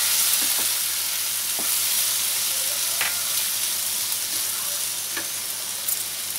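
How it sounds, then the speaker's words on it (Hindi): Tomatoes frying in a tadka for chana dal, a steady bright sizzle throughout with occasional sharp spatula taps and stirring scrapes, close and without talk. "ये टमाटर भी डाल देते हैं, इसको गलने तक हम पकाते हैं।"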